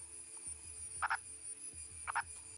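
A purple frog, a burrowing species found only in India, gives two short, bright double-pulsed croaks about a second apart, clear and fairly close over low background noise.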